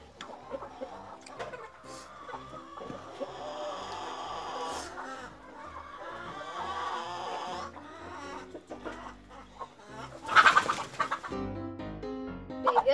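Chickens cluck and chatter in bursts at moderate distance on a rural property, with scattered louder squawks and some faint background voices.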